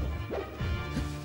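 Smash attack landing in a Super Smash Bros match, a loud crunching impact with a second hit close after, heard over a dense bed of game sound and crowd noise.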